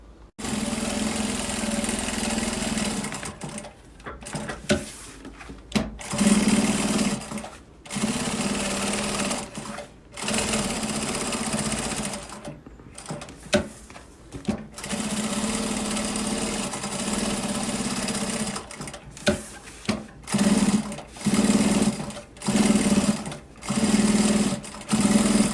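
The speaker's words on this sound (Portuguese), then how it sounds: "a gente vai passar aqui, ó, uma costurinha de segurança nas laterais e costurinha de pesponto aqui e aqui" A sewing machine stitches a fabric pencil case in repeated runs of rapid, even whirring and needle chatter, starting and stopping many times with short quiet gaps between seams.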